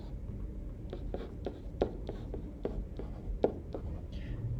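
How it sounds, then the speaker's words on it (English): Marker or chalk writing math on a board, a series of short squeaky strokes and taps in an uneven rhythm, close and clear with no voice over it. "Maybe I'll write that one more time."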